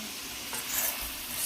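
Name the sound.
searing meat sizzling in a pan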